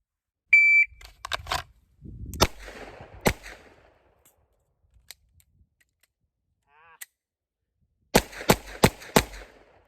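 Pistol shots ring out during a timed shooting drill, starting with an electronic shot timer beep and followed by a quick burst of sharp reports, a pause interrupted by a malfunction, then a fast final string of four shots.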